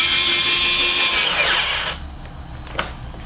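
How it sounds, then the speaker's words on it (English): A power tool whirring as it tightens a hose clamp on a snorkel being fitted to a 2019 Jeep JL, a steady high-pitched spin close by for about two seconds, then stopping with a few faint clicks after. "tighten the remaining hose clamp"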